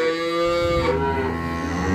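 Cattle on a farm moo in a long, loud, drawn-out low bellow from nearby, with a second cow lowing beneath it and no voices.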